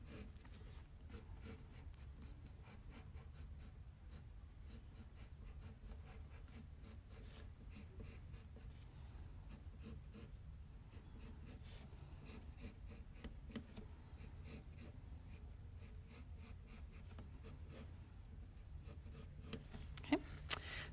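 Pen scratches on paper while drawing block letters, a faint, continuous rubbing and scraping with short repeated strokes throughout, quiet and close.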